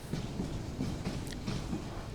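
Saikat Express train rolling from Chattogram toward Cox's Bazar, heard from inside as a steady low rumble with soft, regular wheel clicks and a brief higher squeal midway.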